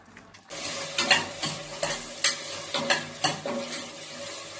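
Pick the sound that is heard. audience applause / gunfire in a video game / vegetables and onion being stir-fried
vegetables and onion being stir-fried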